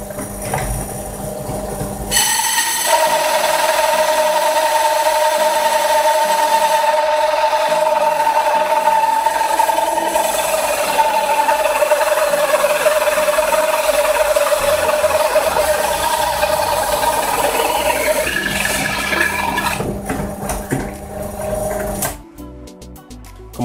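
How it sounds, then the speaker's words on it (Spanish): A drill set to low revolutions lowering slowly into wood, a loud sustained motor whine with a grinding cutting tone that starts abruptly, holds steady for about twenty seconds, then winds down and stops. "hemos configurado el taladro para que gire a bajas revoluciones"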